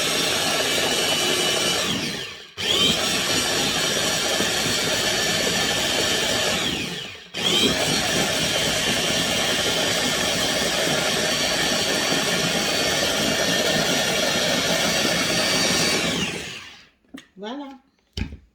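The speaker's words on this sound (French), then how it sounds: "Donc ça, ce n'est que le mixeur pour les produits de beauté." A small electric blender mixes macerated beauty oil, whirring loudly and steadily in three long runs separated by brief stops, close to the microphone, then winding down to a few clicks at the end.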